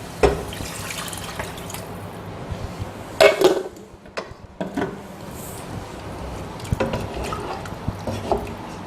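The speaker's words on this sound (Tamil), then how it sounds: "கொஞ்சம் நம்ம தண்ணி சேர்த்துக்கலாம்." Water added to bitter gourd sambar in a pan, with dripping and splashing, clinks of metal utensils and a brief sizzle, close by, in irregular bursts without speech.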